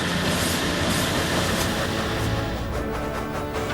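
A small engine on Sodor's island railway rumbles steadily along the track, with dense, continuous wheel and carriage noise and no voices.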